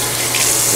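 Water runs steadily from a tap at a house, a close, continuous rushing hiss with no pauses.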